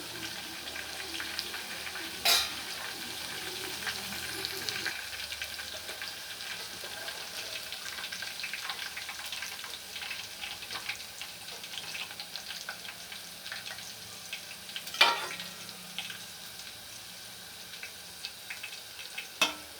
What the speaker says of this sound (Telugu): కొంచెం ఫ్రై అయింది. ఇంకొంచెం ఫ్రై అవ్వాలి.